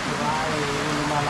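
A brief, steady hiss of rain falls around a house, with a soft wash of drops at moderate distance and a voice nearby.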